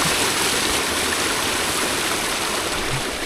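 Water rushes and splashes steadily, a broad close hiss of flow cascading down over terraced steps in Buscalan village, Philippines, with no voices.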